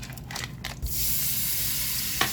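Four tablespoons of butter drop into a hot pan beside seared pork chops and burst into a steady, loud sizzle; a few soft clinks and scrapes come first, then continuous crackling frying with one more scrape near the end, no voices.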